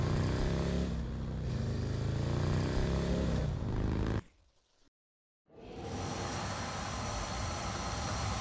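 A motorcycle ridden in Saints Row IV on PlayStation 4 revs in a loud, steady engine roar that drops out abruptly for about a second, then returns at full strength.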